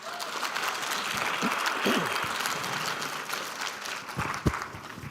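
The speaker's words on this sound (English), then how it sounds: "A huge round of applause for them, please." Steady applause from a conference plenary audience, a dense patter of clapping that holds through the whole stretch with a few louder claps near the end.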